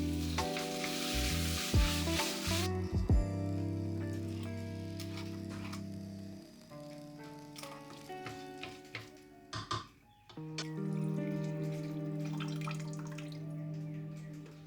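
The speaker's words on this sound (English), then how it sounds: "Lastly, I added the roasted pumpkins and let it all simmer before blending everything together." Pumpkin soup made with roasted pumpkin, canned pumpkin, vegetable bouillon, paprika and water sizzling and bubbling in a pot, a steady close simmer with occasional clinks and stirring sounds.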